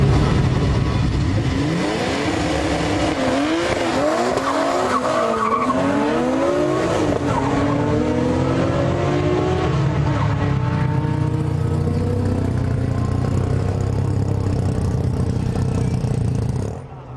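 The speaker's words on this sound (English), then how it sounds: "Older cars like this classic 240ZG add flavour to the event." A naturally aspirated classic Nissan 240ZG at a drag racing event revs loudly and its tires squeal in a long skid, then the engine settles into a steady rumbling idle that runs on for many seconds.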